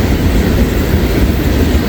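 A freight train rolls past close by, a steady, loud rail rumble with wheel clatter over the tracks, heard alone.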